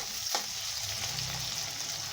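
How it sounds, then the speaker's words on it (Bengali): Chopped tomatoes fry in hot oil in a pan for a dried fish curry, giving a steady, close sizzle with soft stirring scrapes throughout and no talking. "টমেটোটাকে দিয়ে ভালো করে নেড়ে ছেড়ে নেব।"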